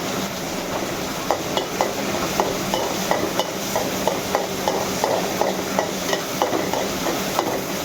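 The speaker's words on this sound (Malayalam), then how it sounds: "തവി കൊണ്ട് നല്ല നൈസായിട്ട് ഇളക്കി കൊടുക്കണം ഗേസ്" Yippee noodles stirred in a pan with a ladle, steady scraping strokes in a regular rhythm over a constant background hiss, close and fairly loud with no talking.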